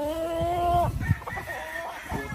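Gamefowl rooster at a farm giving a drawn-out crowing call followed by short clucks, close and clear with a steady background.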